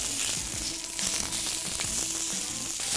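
Crumbled sausage meat without its casing sizzling in a hot pan, a steady bright crackle with small pops and faint stirring, close up.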